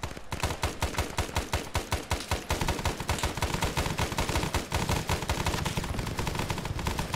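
Sustained automatic gunfire in Arma 3's S.O.G. Prairie Fire setting, rapid loud bursts of shots cracking in a fast, nearly continuous rhythm, close and dominant throughout with no talk over it.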